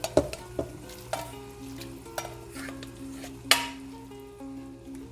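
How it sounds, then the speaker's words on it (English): Miki noodles are stir-fried in a pan with seasoned ingredients, giving a steady soft sizzle broken by several clinks and scrapes of a utensil against the pan. "I just stir fry it with salt and pepper, and that's it. And then we can add in our miki noodles."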